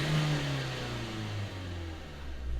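A 2015 Nissan Juke 1.5 dCi diesel with no boost, fault codes P0470 and P0471, revving up and settling in a steady low engine drone, fairly faint.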